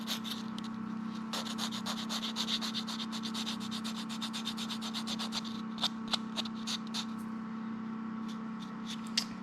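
Seeds being rubbed with fine-grade sandpaper, a steady soft scratchy rasp with quick repeated strokes, close and quiet, over a constant low hum.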